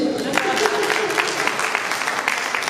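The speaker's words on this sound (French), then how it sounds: "On peut les applaudir." Applause from an audience gathered in a hall for an anniversary event in Diawara, a moderate steady clapping wash with people talking over it.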